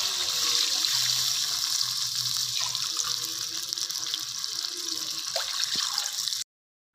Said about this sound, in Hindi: अब हम इसमें शामिल करेंगे 2 कप पानी।